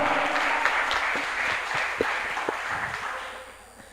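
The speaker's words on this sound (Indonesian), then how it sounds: "kita beri aplaus yang meriah" An audience at a high school Indonesian-language debate final applauds loudly, a dense wash of clapping that holds steady and then slowly fades, with no talk over it.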